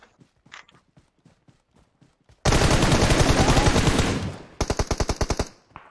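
Gunfire in a squad-versus-squad battle video game: a few faint scattered shots, then a loud sustained burst of automatic fire, followed by a rapid string of distinct sharp shots, with no talk.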